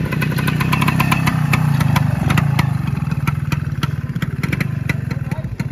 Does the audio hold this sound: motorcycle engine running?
yes